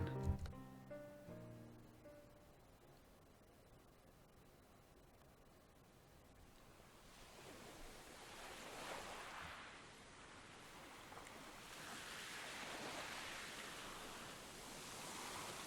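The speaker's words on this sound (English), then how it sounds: "the sound of waves woke me up" Ocean waves from the visual novel game Aoi Shiro wash in as a soft, steady surf that swells and recedes in broad rushes, heard alone after a brief musical tone at the start.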